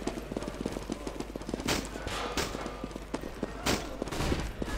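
Rapid CS:GO gunfire during a professional tournament match, bursts of sharp shots and footsteps in quick succession at moderate loudness.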